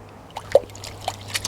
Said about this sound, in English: So we've got ourselves a bucket of water and just give the roots a good rinse.